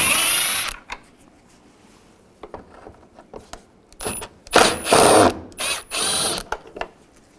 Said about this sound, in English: Use the T25 socket. Take this screw out.